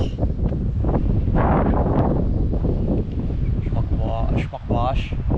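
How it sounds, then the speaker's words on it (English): Strong wind buffets the microphone at a waterfall at night, a constant loud roaring rumble, with a voice talking briefly near the end. "It's windy."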